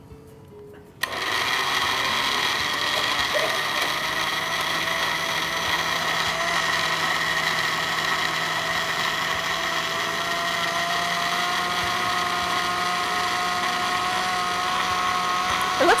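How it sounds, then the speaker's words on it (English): A blender whirs steadily at high speed, a constant loud motor whine that starts abruptly and runs without pause. "we'll go ahead and get our blender going here"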